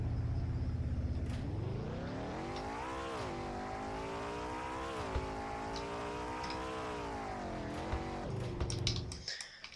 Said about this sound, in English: So here's the sound of startup.